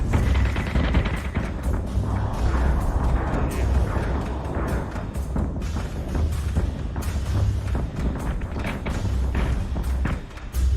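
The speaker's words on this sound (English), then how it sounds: "They fire 6 missiles in one volley, which is awesome." Missile volleys fired by Colonial ships in the Battlestar Galactica Deadlock space combat game make a dense run of repeated heavy thumps and launch bursts over a continuous low rumble, loud and steady throughout.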